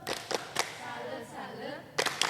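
Children clap a rhythmic salute, several sharp claps at the start and end with chanting voices between, at a Sunday school gathering.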